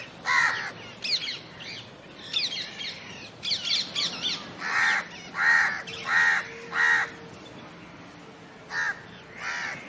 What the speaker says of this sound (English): there's a bunch of parrots